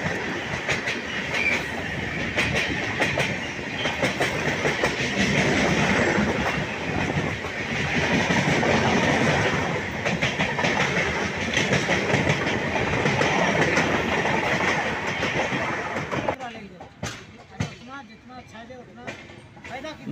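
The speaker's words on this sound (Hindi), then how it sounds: "ये है न्यू जलपाईगुड़ी से न्यू दिल्ली तक जाने वाली new Jalpaiguri super fast express." The New Jalpaiguri Superfast Express, running from New Jalpaiguri to New Delhi, rushes past with loud continuous clickety-clack of wheels on rails that cuts off abruptly near the end, followed by a few fading clanks and sparse sounds.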